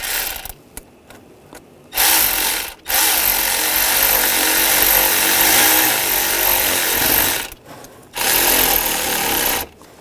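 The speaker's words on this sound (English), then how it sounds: "Using the 7mm socket, tighten down the worm clamp." Power tool driving a 7mm socket to tighten a worm clamp on a 2.0L Volkswagen Tiguan, heard as a loud, close whirring burst with ratcheting clicks, pausing briefly before two more runs.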